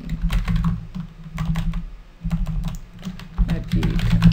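Clusters of quick key clicks on a computer keyboard as an IP address is entered, close and moderately loud, in short bursts separated by brief pauses over a low background hum.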